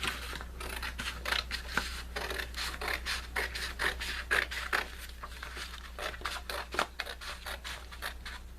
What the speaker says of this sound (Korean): 가운데 선을 가위로 자릅니다.